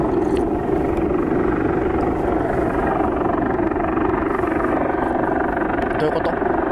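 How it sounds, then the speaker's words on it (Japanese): A helicopter hovers in one place overhead, its rotor giving a continuous, even thrum that stays loud and unchanging from start to finish. "ずっと同じところにいるヘリが。"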